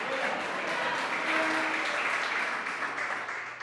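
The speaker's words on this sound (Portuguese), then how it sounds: "Dê um forte aplauso ao Senhor Jesus" A church congregation applauds loudly during a sermon, a full, continuous round of many hands clapping that carries on evenly and eases slightly toward the end.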